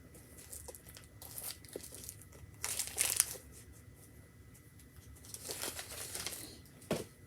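A paper envelope is handled up close, giving soft crinkling and rustling with two louder crackling bursts of paper being pulled and flexed, quiet and without speech.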